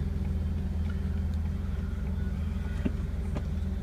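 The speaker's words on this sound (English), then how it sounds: "We're going to go on a test drive with the 71 911E." A 1971 Porsche 911E with a freshly rebuilt engine on a test drive, heard from inside as a steady low engine drone and road rumble, fairly quiet and continuous with no talking.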